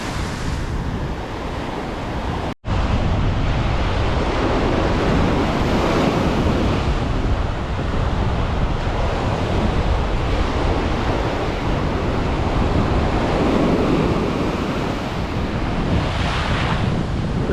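Waves crash against the edge of a beach, a loud, continuous roaring surf with rolling swells and heavy wind buffeting the microphone, and a brief dropout early on.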